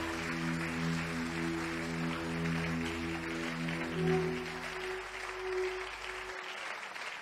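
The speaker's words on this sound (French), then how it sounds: "quelqu'un peut acclamer encore mieux le Seigneur" A church congregation claps and cheers in praise of the Lord, a steady sustained wash of applause under sustained musical tones, easing off toward the end.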